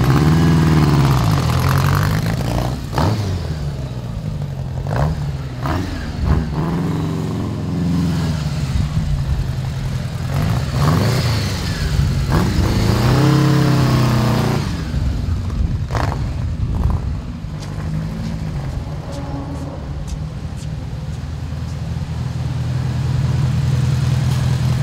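A 1979 Honda GL1000 Goldwing motorcycle engine runs steadily nearby for the whole stretch, with a few revs that rise and fall in pitch before it settles back to a loud idle. No one speaks.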